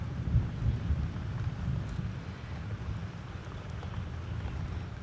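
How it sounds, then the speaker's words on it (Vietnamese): Heavy rain pours steadily, with a deep rumble of thunder throughout, a dense, continuous low roar heard from outdoors or near a doorway with no talking. "trời mưa quá chú"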